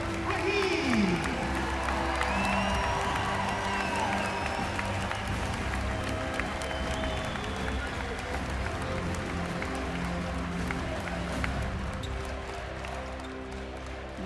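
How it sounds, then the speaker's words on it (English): A crowd at a college basketball award ceremony honoring Coach Amir Abdur-Rahim applauds and chants "AAR" continuously, a broad roar of clapping and voices sustained throughout. "You hear that AAR being chanted in the background"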